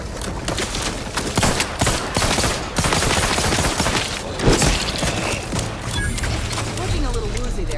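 Weapon fire in The Outer Worlds 2 combat: bursts of rapid shots and impacts, loud and irregular over several seconds, with occasional spoken lines mixed in.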